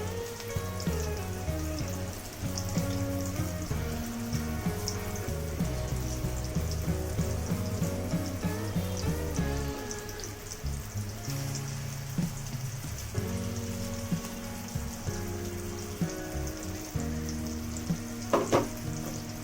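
Fish roe cutlets frying in hot oil, a dense continuous crackling sizzle close up with occasional sharper pops, steady throughout with no talking.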